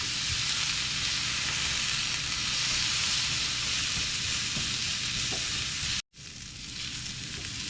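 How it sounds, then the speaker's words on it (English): Steady, loud sizzling of potatoes and carrots frying in a pan while being stirred, a continuous hiss that cuts out abruptly near the end before resuming. "So I'm going to give it a little bit of a stir because I don't want it to burn."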